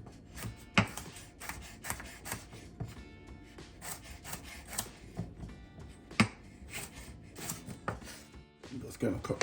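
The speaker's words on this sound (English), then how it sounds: "Okay, so I'm cutting my carrots." Carrots chopped with a knife on a board for Jamaican curry cabbage, a series of irregular sharp close-up cuts with scraping in between.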